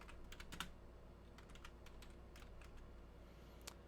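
Quiet typing on a computer keyboard, a burst of scattered key clicks at an irregular pace, close but faint over a low background hum.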